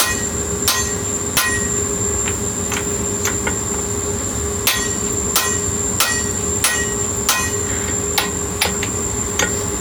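A hand hammer rings on a hot steel hammer head while punching the eye without a striker, sharp metallic blows at an irregular pace over a steady forge or blower hum.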